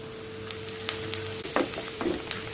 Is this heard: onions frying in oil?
yes